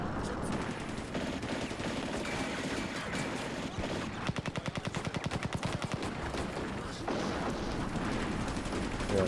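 Mortar rounds land nearby during a WWII battle in the strategy game Combat Mission: Barbarossa to Berlin. Continuous loud battle noise carries a rapid burst of gunfire at its centre, with no talking.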